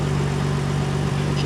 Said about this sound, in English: hear the ABS motor running